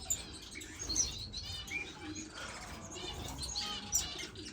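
Finches in a birdroom, including shaft tails, chirp and tweet in quick, scattered calls, fairly close but soft, with faint wing flutters among them and no talking.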